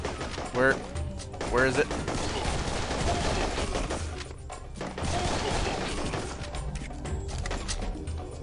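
Pistol fire in the video game Serious Sam 3: BFE, repeated sharp shots and bursts over continuous combat noise, with someone talking briefly over the action.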